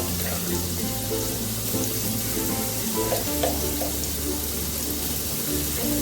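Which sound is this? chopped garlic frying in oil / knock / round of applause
chopped garlic frying in oil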